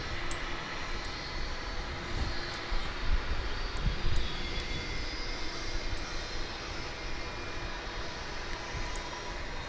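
Broad, steady jet roar of an Airbus A300 airliner at Dallas/Fort Worth International Airport, holding constant and fairly close for the whole stretch with a slight swell in the middle and no talk.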